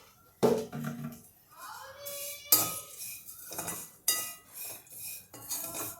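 Poha being dry-roasted and stirred in a hot kadhai with peanuts, with a few sharp metallic scrapes and clinks of a spoon against the pan over soft rustling, near and moderately loud, with no talk.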